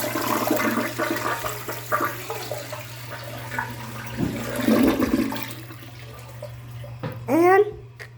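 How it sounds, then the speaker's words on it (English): A hotel room toilet flushes with a rushing gush of water that drains away and then refills with a gurgle and trickle, close up, after someone speaks briefly. "Time to flush the toilet."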